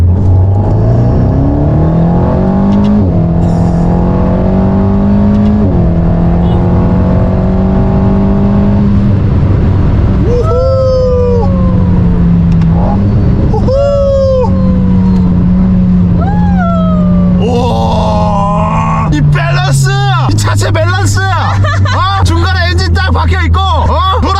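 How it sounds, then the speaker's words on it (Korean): A powerful Alpine A110 Legende GT sports car engine revs and roars loudly, climbing through gears in rising pitch sweeps, dropping and surging again close by. "엔진의 그 사운드가 같이 들려오는 게"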